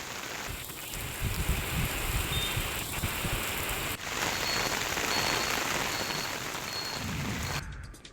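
Steady rain pattering on surfaces nearby in Sindhudurg district, a constant dense hiss with a brief dropout midway, no voices.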